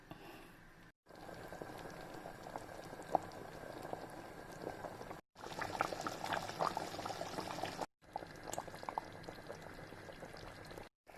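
Goussi sauce for Togolese goussi dessi simmers in a pot with a steady, close bubbling boil that cuts out briefly a few times. No one speaks.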